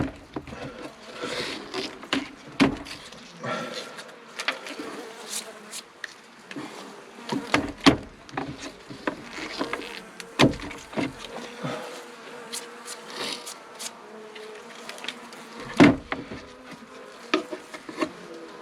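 Honeybees buzzing steadily as a hive is moved to heather moorland, a dense insect drone with scattered knocks and bumps of wooden hive boxes throughout.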